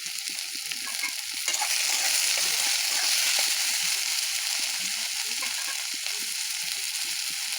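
Chopped onion sizzles loudly in a hot pan with salt added, a dense, steady hiss close by with faint stirring scrapes and no talk.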